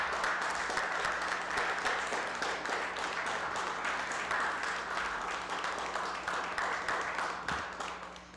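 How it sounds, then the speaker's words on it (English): Soft, steady applause from the room at a city council meeting, a dense patter of claps heard from a distance that fades toward the end. "Let's give them a round of applause."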